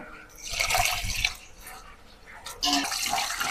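Biryani rice is washed in water, with sloshing and swishing in two bursts and soft trickling between them, heard close.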